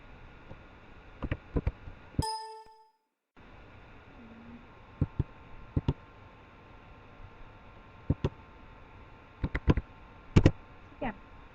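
Scattered keypresses on a computer keyboard, short sharp clicks arriving singly and in small bursts with pauses between, over a faint steady hum.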